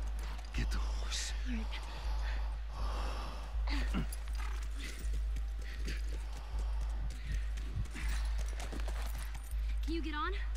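Horse hooves clip-clopping in the video game The Last of Us, a steady close rhythm of hoofbeats with snorts and breathy whispered voices over a low constant hum.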